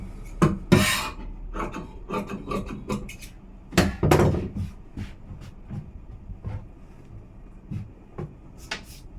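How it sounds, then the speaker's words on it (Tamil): Scissors cut through blouse fabric for the yoke in a series of irregular crisp snips and rasping drags, loud and close, with no talk. "இப்போ நான் யோக் வந்து வெட்டிடுறேன் கீழே"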